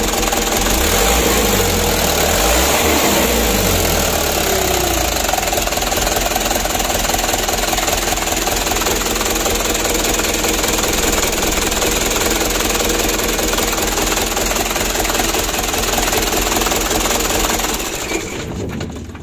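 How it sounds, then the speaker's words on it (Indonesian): An engine with a leaking exhaust runs loud and rough, a continuous close hammering rattle with deep low pulsing that holds steady before easing off at the very end. "Wah, itu knalpotnya juga bocor. Kalau digas itu malah ngebul ke depan ya."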